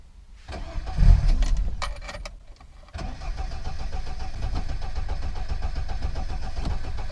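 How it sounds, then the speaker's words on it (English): A 50-year-old Lada car engine makes a cold morning start: keys jangle and the starter cranks, then after a short pause the engine catches and settles into a steady, rough idle close by. "Cold start in the morning."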